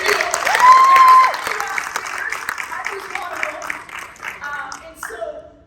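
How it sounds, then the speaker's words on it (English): An audience bursts into applause at a fest event, dense clapping loud at first, then thinning into scattered claps with voices and cheers mixed in. "let's give it a round of applause"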